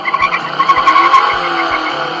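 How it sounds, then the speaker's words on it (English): A 1967 Camaro launching hard with heavy wheel hop: loud, close tire squeal with a rapid rhythmic low thumping as the rear axle bounces, lasting about two seconds. "my Camaro on the launch has tremendous wheel hop"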